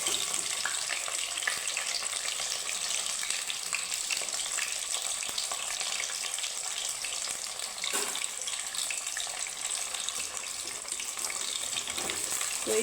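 Balls of flour dough deep-frying in hot oil, a dense, steady sizzle with fine crackling that holds at an even, close level throughout with no voices.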